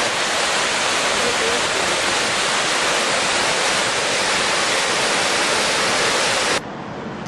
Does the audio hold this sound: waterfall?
yes